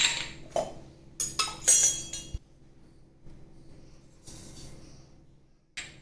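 A spoon stirs kheer of rice, milk and sugar in a cooking pot, giving sharp, close metallic clinks and scrapes in scattered bursts with quiet pauses between.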